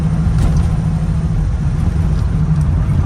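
A 1969 Camaro 454 with a 6-speed manual cruises down a road, its big-block engine a steady, loud low rumble inside the cabin with constant road noise and no talk.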